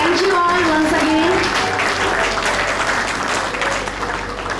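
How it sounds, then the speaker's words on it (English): Audience applause at a school Expression Day stage event for LKG children's performances, steady and full throughout, with voices and a sung or spoken tone carrying over the clapping early on. "Let's give our little ones a huge round of applause for their amazing performances."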